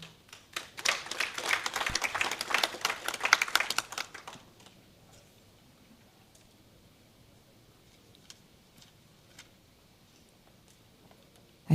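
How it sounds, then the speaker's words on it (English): A conference audience claps to welcome a speaker, a brisk burst of many hands for about four seconds that quickly dies away, leaving a quiet room with only a few faint ticks and shuffles. "Ladies and gentlemen, a hand of applause to Ms."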